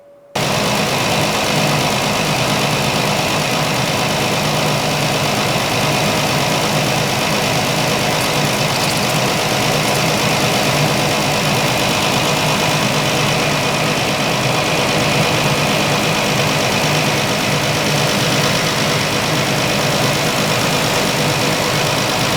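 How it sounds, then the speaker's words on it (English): A 2011–2014 Chrysler 200 V6 engine idles steadily with the heater running, giving a loud, continuous, even drone close by for over twenty seconds without speech. "Now we need to start up the car, and you're going to want to turn on your heater."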